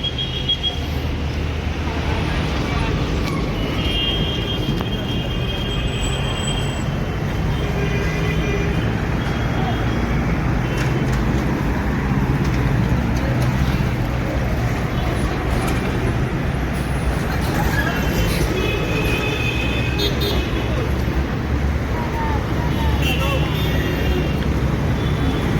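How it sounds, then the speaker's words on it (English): Busy road traffic near a harbor bridge in Calcutta, with cars, buses and trucks rumbling past in a dense continuous roar, occasional horn and air-brake hiss, and people talking over it. "Lots of traffic and lots of people walking around."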